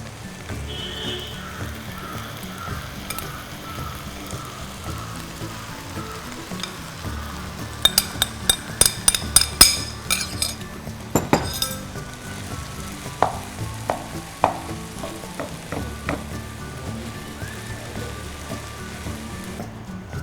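Cooked rice goes into a pan of ginger capsicum fried rice and gets stirred: a steady sizzle runs throughout, broken by a burst of sharp spatula clacks and scrapes against the pan in the middle.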